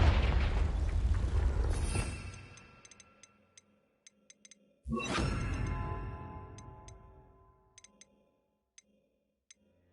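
A Confringo fire spell explodes in Hogwarts Legacy: a loud, booming blast that slowly fades, then a second heavy boom a few seconds later, with faint ticking clicks scattered through the decay.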